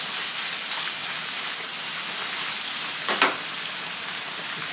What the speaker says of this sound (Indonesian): Oke, sekarang kita masak daging sapinya teman-teman.